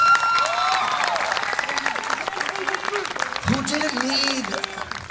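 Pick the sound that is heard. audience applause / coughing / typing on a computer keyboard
audience applause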